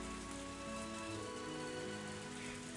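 Steady rain pours down in the Higurashi visual novel, a dense, constant hiss of drops spattering a surface, with a faint low tonal bed of background music underneath and no voices.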